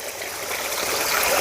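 Water drains and flows steadily on a farm, a close, continuous rushing trickle with no voices.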